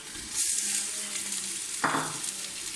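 Chicken frying in a pan with tomatoes and garlic-ginger paste, a steady close sizzle with a stirring scrape near the middle and a burst of hiss toward the end.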